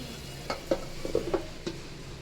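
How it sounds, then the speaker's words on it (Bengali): Bottle gourd and potato bhaji cook in a pan, heard as a soft background sizzle broken by several distinct spatula scrapes and knocks at irregular intervals, close and fairly quiet. "ভাজি বসাইছে ভাবি দেখেন ভাজি হচ্ছে এই লাউ চুলকা আর আলু"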